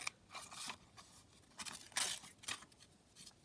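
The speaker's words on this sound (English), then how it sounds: "And then I'm just going to cut that out so as I know roughly where to glue." Scissors cutting collage sheet paper to make junk journal ephemera: quiet, close snips and crisp paper rustles in an irregular rhythm.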